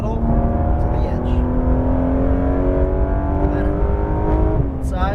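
A Porsche GT3 RS 991.2 on a race track accelerates hard, its engine note climbing in a loud, steady rising whine before a quick shift near the end, with an instructor talking over it.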